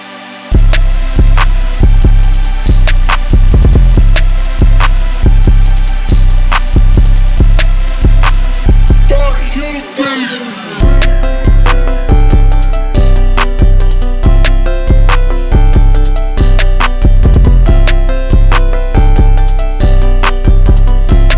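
Loud hyperpop beat made in FL Studio with punchy kicks and crisp drum hits, bright synth chords, a brief sweeping break midway, then the full groove returns.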